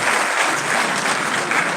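A conference crowd gives loud applause for visiting delegates, a thick even wash of many hands clapping that runs throughout the moment, with no speech on top.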